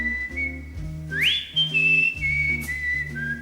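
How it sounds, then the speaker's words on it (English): Melodic whistling from a recording of a song, a clear sustained whistled line with a rising slide, carried over soft instrumental backing with no voices. "The whistling just seals it."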